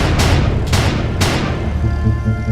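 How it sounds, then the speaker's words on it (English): Three sharp, loud cracks in quick succession, each leaving a short decaying tail, followed by a lingering low rumble. "that's when Kamaya heard the gunshots."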